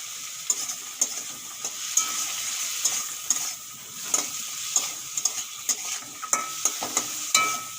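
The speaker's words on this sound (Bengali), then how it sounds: "এগুলো ভালো করে ভেজে নেব" Green chillies with turmeric and salt frying in a pan, a soft continuous sizzle broken by regular sharp scrapes and taps of a spatula stirring, close and without speech.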